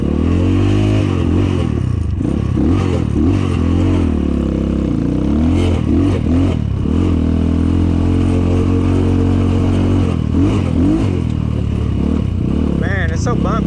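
An Apollo 250rx dirt bike engine drones and revs continuously on a bumpy trail ride, with loud rising and falling throttle swells and rattling clatter over a constant low rumble, while someone talks over it.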